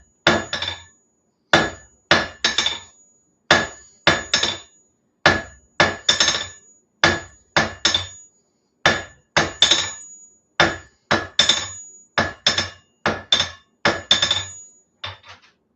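A blacksmith's hammer strikes hot steel on an anvil while forging a coal rake, ringing in quick paired and triple blows with short pauses, loud and close, with no one talking.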